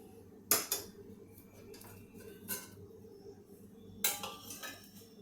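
A metal wok (kadhai) clanks as it is set on a stovetop, with a few sharp knocks and rattles spread over a few seconds. The sound is close and moderately loud.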